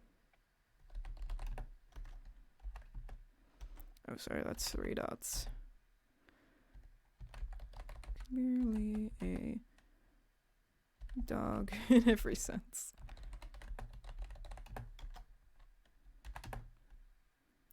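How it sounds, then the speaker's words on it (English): Bursts of computer keyboard typing on a laptop during a Minecraft 1.20.1 livestream, clicking away in quick runs between stretches of close, casual talk from a streamer. "I hope you guys enjoy the keyboard ASMR that you can kind of hear."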